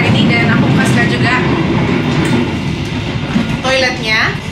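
A passenger train travelling between Yogyakarta and Jakarta rumbles along steadily with rattling carriages and a constant low roar, while people talk faintly in the background.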